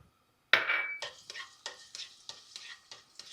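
Garlic and chili peppers fry in olive oil, a loud burst of sizzle when they hit the pan giving way to a steady crackle, broken by a rhythmic series of close stirring scrapes.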